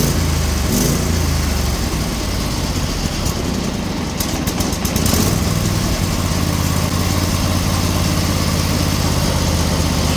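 Small tractor engine idling steadily with a snowblower attachment mounted, its frozen choke disconnected; a loud, continuous low rumble runs throughout, with no talking.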